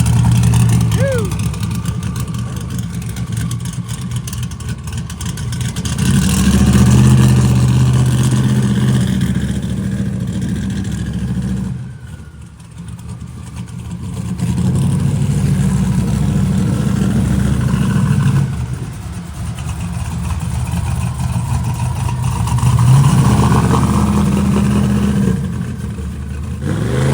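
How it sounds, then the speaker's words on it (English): A no-prep 4x4 NASCAR truck does a burnout on a track, its engine roaring loudly in three long surging waves with brief dips between them. "That's a burnout."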